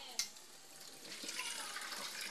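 Soup ingredients are washed under a running tap, a faint steady trickle and splash with a small knock at the start, quiet and close.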